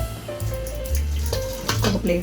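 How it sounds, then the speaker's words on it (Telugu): Cold water poured over pressure-cooked taro root in a bowl, a steady splashing rush lasting a couple of seconds over a sustained tonal background. "కొద్దిగా చన్నీళ్ళు పోసేసుకుంటే మనకు తొందరగా ఈజీగా పొట్టు వచ్చేస్తుందండి."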